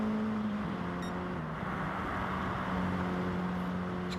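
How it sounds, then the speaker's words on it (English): Mini Cooper race car engine at Willow Springs, running rough with a steady droning note and a slight pitch dip, continuous and fairly loud. "This car does sound a little bit rough."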